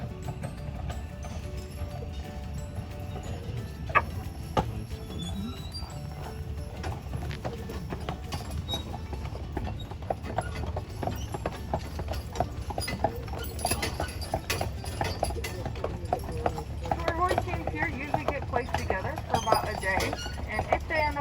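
Three-horse teams pull passenger carriages on Mackinac Island, Michigan, their hooves clip-clopping in a steady, continuous rhythm with wheel and street noise, while a person talks over it throughout.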